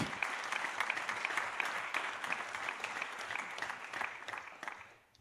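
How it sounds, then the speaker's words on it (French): Audience applause at a French public debate on science and social networks, a dense, even round of many hands clapping at moderate distance that carries on steadily and fades at the end. "Merci d'accueillir et d'applaudir Olivier Houdet, psychologue"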